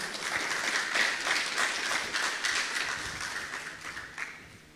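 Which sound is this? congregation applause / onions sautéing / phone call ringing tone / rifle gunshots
congregation applause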